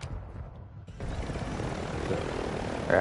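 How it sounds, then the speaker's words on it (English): A helicopter flies in the DMZ video game, a steady broadband rotor and engine roar that swells in and holds loud and near for a few seconds. "Guys, I got a chopper."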